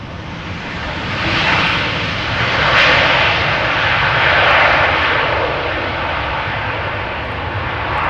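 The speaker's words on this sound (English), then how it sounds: "787-10 Dreamliner arriving from Atlanta" A Boeing 787-10 Dreamliner arriving at Amsterdam Schiphol Airport gives a loud, sustained jet engine roar that swells and then slowly fades over several seconds, heard alone without speech.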